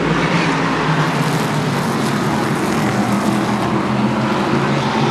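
Valenti Modified race cars run side by side on a short speedway track, a dense, unbroken roar of several engines blending into loud, steady noise throughout.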